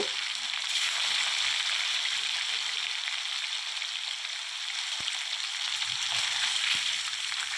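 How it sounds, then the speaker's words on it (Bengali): Pieces of katla fish frying one by one in hot mustard oil, a steady close hiss of sizzling with no talk. "এখন এক এক করে আমি মাছের পিসগুলো ভেজে নেব।"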